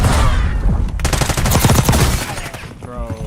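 Loud, close automatic gunfire in a Call of Duty video game: a rapid dense burst of shots through the middle, with game voices and effects around it.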